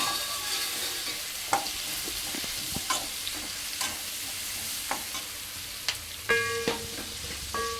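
Thickly chopped tomatoes fry and sizzle in a pan in a steady hiss, with scattered clicks and a few sharp scrapes and taps of a spatula against the pan.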